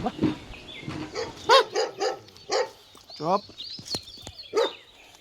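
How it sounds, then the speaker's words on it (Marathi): A dog barks repeatedly nearby in short bursts from inside a roadside house, with some yips and higher whimpering sounds between barks. "रस्त्यावरून जाताना या घरामध्ये एक कुत्रा भुंकत होता"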